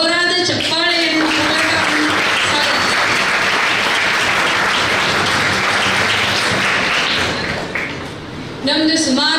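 Students in a crowd at a skills day event break into loud, sustained applause that lasts several seconds and then fades out, with voices heard briefly before and after the clapping.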